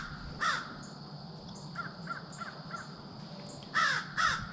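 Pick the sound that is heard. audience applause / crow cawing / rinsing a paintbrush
crow cawing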